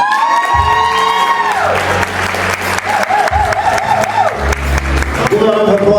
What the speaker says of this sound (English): Help me welcome to the stage